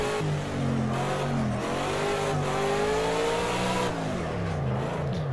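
A 1991 DTM race car drifting in the video game Project Cars 2 gives a loud, continuous engine note whose pitch swings up and down with repeated revving, with no talk.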